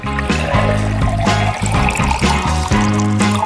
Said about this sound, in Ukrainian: Ну а тепер потрібно перелити наш кавоновий фреш у спеціальну пляшечку.